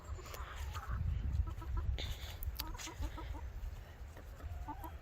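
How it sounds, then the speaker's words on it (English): Backyard garden chickens cluck softly in short, scattered bursts, fairly faint over low outdoor rumble and some distant birdsong. "chickens have all been enjoying the weather."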